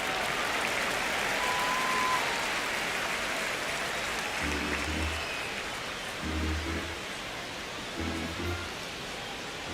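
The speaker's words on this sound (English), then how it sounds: "Just underway, crowd getting settled in the Dodger Stadium" Stadium crowd ambience at Dodger Stadium in the baseball video game MLB The Show 26, San Diego against Los Angeles: a steady wash of distant crowd noise, with a few soft low thumps in the second half and no talk.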